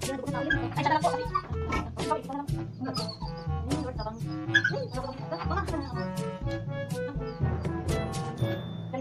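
Native chickens cluck continuously and close by in a busy, overlapping chorus of short calls.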